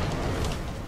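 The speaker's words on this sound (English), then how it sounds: "Explosion." A loud explosion rumbles through a Shadow of War fight, a dense, sustained boom filling the whole short moment with no voice over it.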